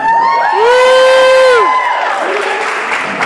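A live reading audience erupts in loud cheering and whooping, with sustained shouts and a few high drawn-out yells rising over the crowd noise before it gradually settles.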